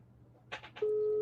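A telephone call placed to Arba Minch goes unanswered: a few short electronic bursts come first, then a steady, continuous line tone holds at a moderate level with no one speaking.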